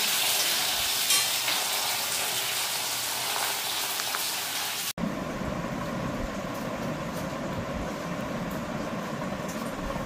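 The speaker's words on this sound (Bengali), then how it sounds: "একটু ফ্রাই হোক তোমার মশলাটা দিই" Masala spices frying in a pan, a loud, steady hiss and crackle of hot oil that carries on unbroken, with a short break about halfway where the sizzle shifts in tone and then keeps going.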